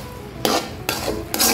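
Three quick scraping strokes of a spoon stir rice flour into taro leaf curry in a pan, each stroke close and distinct, evenly spaced, with a faint sizzle underneath.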